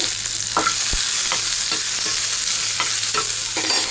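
Garlic and dried red chillies fry in oil for a raw tamarind chutney, a loud, steady sizzling hiss close by, punctuated by a handful of spoon scrapes and taps, with no talking.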